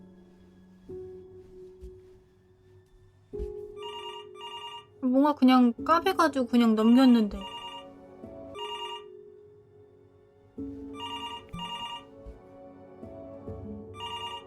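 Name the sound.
telephone ringing in Before Your Eyes video game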